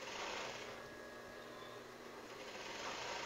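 A sewing machine fitted with an invisible zipper foot runs steadily as it sews an invisible zipper into a garment at a waist seam, giving a continuous close mechanical whir with no voices.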